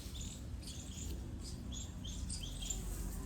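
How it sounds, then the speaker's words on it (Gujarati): Small birds, including parakeets, chirping in a village in the evening, with a string of short high tweets and calls over a steady low background rumble, moderately distant and fairly faint, with no talking. "સાંજના અને પક્ષીઓ બોલે છે અહીં"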